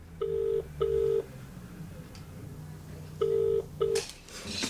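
Touch-tone telephone number dialed on a home phone: four short, loud keypad beeps in two pairs, separated by a pause, with faint room noise between them and a click at the end.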